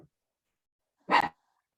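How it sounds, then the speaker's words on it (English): A dog at home gives one short, sharp bark close by, after a moment of silence, with nothing else audible. "the dogs are going nuts"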